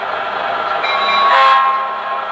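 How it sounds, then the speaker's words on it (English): Horn blast from a U33C model locomotive sound system, a steady, loud, close tone held for about two seconds, with the bell strikes not clearly separable. "press and hold the aux1 or the straight arrow key on your Legacy remote for 3 seconds, and you'll get 2 bells and a horn"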